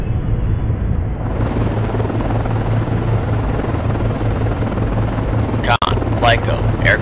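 An SH-60 helicopter returning to a ship in the Cold Waters naval game, a loud continuous rotor drone with low thudding throb, briefly interrupted by a short click and radio-like tones near the end.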